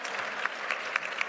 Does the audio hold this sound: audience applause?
yes